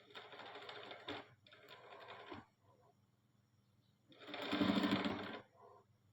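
A sewing machine stitches fabric in three short runs, two close together and a longer one after a pause, rattling at moderate volume in a quiet room.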